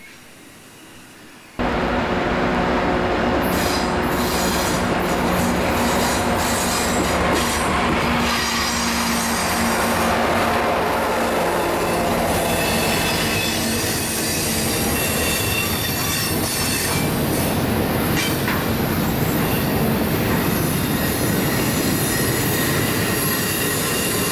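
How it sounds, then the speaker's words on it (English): A Canadian Pacific freight train rolls past close by, a loud continuous rumble of wheels and cars with metallic squeals and rhythmic clatter throughout. "This manifest is the Canadian Pacific Train 458"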